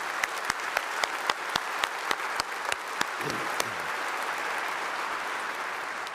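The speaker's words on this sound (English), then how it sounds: "Please join me in giving another round of applause to these extraordinary students." Sustained applause from a large audience at a university class of 2021 commencement ceremony, dense and steady clapping filling the space, with a few sharp louder claps standing out near the start before the sound settles into an even roar.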